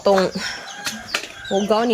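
Chickens cluck and squawk close by in short bursts, with a person talking briefly between the calls, in a backyard flock.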